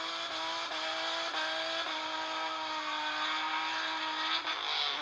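A Nissan car with an upgraded engine revs hard and steadily, its engine note rising and falling in several sharp surges over a continuous loud drone, with a possible hint of tire squeal.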